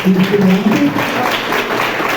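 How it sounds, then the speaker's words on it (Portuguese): Students applaud a visiting student at a school talk, a brief burst of steady crowd clapping with voices mixed in underneath. "Eu peço aos alunos uma salva de palmas para essa estudante."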